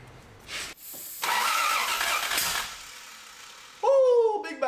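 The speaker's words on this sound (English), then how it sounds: "Ooh, big backfire." A Toyota Soarer Z10 engine cranks and catches roughly, with loud bursts of noise, before a sharp backfire bang near the end, close by and mostly alone.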